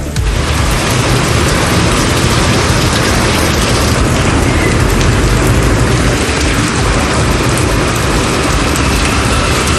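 Summer downpour with thunder over suburban Chennai, steady loud rain roaring continuously throughout with a broad low rumble underneath, no voices.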